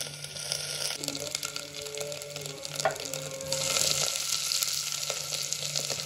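Crushed garlic and ginger frying in a pot for fish curry, a steady hiss of oil that swells louder partway through, with faint clatter and a hum underneath.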